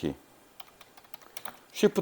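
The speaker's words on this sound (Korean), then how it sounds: "키보드 상하 방향키를 누르시거나" Arrow keys pressed on a computer keyboard during video editing, a few sparse light clicks and taps at close range, with brief louder bursts at the start and end.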